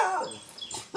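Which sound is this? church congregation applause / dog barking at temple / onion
dog barking at temple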